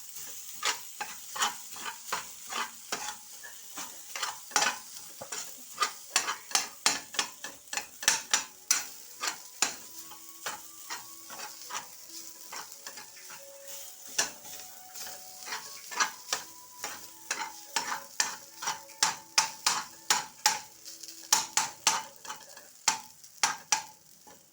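Coconut rice, made as egg fried rice with coconut milk, Asian spices and mung bean sprouts, is stir-fried in a pan, with a steady sizzle under rapid, repeated scraping and clacking of a utensil against the pan throughout, close and loud.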